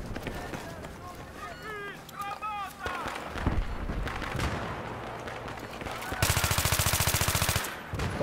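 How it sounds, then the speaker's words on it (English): Machine gun fire in the Battlefield 3 multiplayer map Strike at Karkand. Other game sounds come first, then a loud, fast, evenly spaced burst of automatic fire lasts over a second. "Yep, there's gunfire down here."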